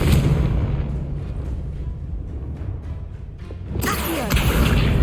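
A Confringo blasting spell explodes in Hogwarts Legacy, a loud booming blast with rumbling low end, followed by a second sharp burst near the end.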